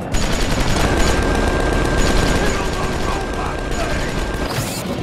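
Rocket fire and heavy weapon blasts in the Tales from the Borderlands video game, a loud, continuous barrage that rolls on without a break before a sharp blast at the close.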